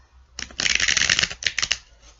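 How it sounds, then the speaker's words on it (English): A deck of tarot cards being shuffled by hand, a close, crisp burst of riffling flutters and paper slaps with short pauses between rounds, no voices. "Alright, a couple more shuffles. I think 3 more shuffles and that should do the trick."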